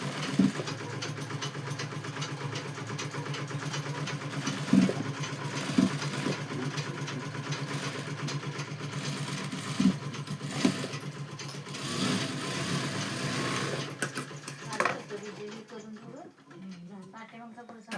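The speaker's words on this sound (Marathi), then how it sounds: "अस्तर कडल्या साईडला दाब टीप घेतल्या बघा मी आता." A sewing machine runs steadily, stitching along the lining side of a garment sleeve with a pressed seam, a continuous mechanical whir with a few brief clicks, then it slows and stops near the end while a person talks over it.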